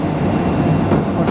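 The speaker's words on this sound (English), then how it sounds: "metro cars leaving St James's just before the last ever trip for the old Class 599." A new Class 555 Tyne & Wear Metro train pulling out of St James's station, a close, steady rumble of rolling wheels on rail with faint clatter and no talking.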